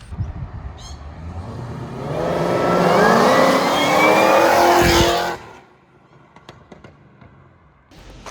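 An HSV car's LSA engine with a custom cam revs up sharply and holds a loud, rising roar for a few seconds, then cuts back to a quiet idle.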